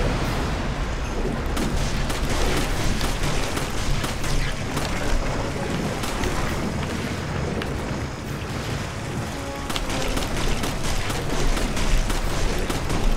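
Rapid gunfire while shooting glowing orbs in Resident Evil 5, sharp repeated shots over a dense, noisy background of game sound, with occasional faint talk.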